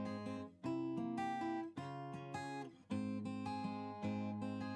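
Acoustic guitar with a capo plays the opening line of a song intro, a few plucked melodic phrases with short pauses between them, close and clear with no talking.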